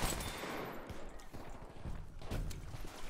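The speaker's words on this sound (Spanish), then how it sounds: "¿qué está pasando con los tiros?" Gunfire in the online shooter Battlefield V: a steady stream of quiet, fairly distant shots and bursts fills the clip, with no clear talk over it.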